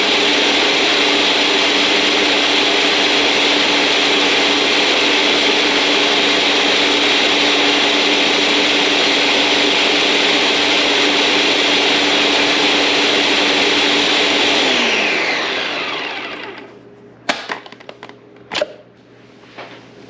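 An electric mixer churns cultured cream into butter with a loud, steady whir for about fifteen seconds, then winds down and stops, followed by a few sharp knocks.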